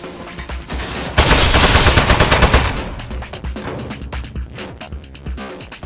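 Rapid automatic gunfire from a robotic turret in the video game Aperture Desk Job, a loud sustained burst of dense shots that tails off into scattered lighter firing, with no one talking.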